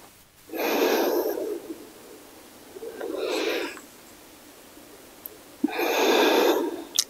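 Three drawn-out hissing breaths, taken in through the teeth in sitkari pranayama during a yoga flow, each lasting about a second with short pauses between, close and clear.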